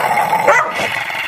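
A dog named Tommy gives a short, rough bark with a growling edge, a single brief burst heard close by.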